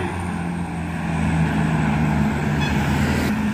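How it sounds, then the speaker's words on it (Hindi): A tractor engine roars steadily during an outdoor tractor trial competition, a loud droning hum with a low rhythmic pulse, heard close and without speech. "ट्रायल चल रही है भाई ट्रैक्टर की"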